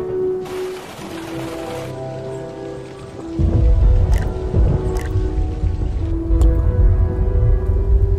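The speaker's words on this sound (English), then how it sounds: "thunderstorms begin to take shape, strong winds hustle, raindrops tumble" A thunderstorm with strong winds and falling rain: a steady wash of rain noise that deepens into a heavier low rumble partway through, with sustained tonal notes running underneath.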